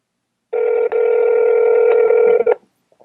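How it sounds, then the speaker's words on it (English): Ringback tone of an outgoing telephone call, one long steady ring burst of about two seconds, clear and close with no talk over it. "It is still ringing."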